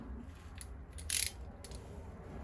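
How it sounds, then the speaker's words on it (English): An adjustable ratchet screwdriver tightening a part on a Suzuki RGV250M-SP motorcycle fork gives a few short, faint clicking bursts over a low background hum, with one louder ratcheting rasp near the middle. "Put it in the old adjustable ratchet screwdriver."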